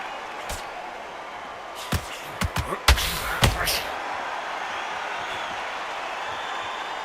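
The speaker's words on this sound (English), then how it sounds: "Really good buzz in the air tonight. This crowd waiting for something special." A steady, dense arena crowd buzz in the Undisputed boxing video game, a broad murmur that holds throughout, broken early on by a few sharp punch-like thuds and slaps.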